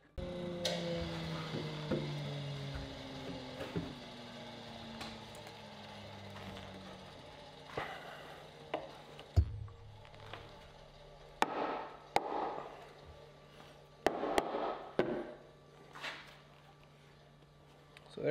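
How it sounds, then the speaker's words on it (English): Chisel worked through a mortise in timber for a garden shed frame, with scattered sharp wooden taps and scrapes, some louder knocks near the end, over faint background hum. "Take our chisel, just check our width all the way through."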